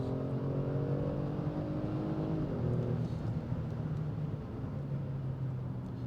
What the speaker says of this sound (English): So let's now give it full throttle here.